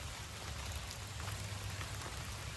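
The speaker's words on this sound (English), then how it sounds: "there's serious rain falling" Heavy rain pours down steadily outdoors, a dense, even hiss of drops drumming on surfaces, close and constant with no voices.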